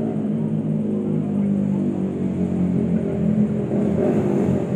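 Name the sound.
big motorbike (moge) engine revving at night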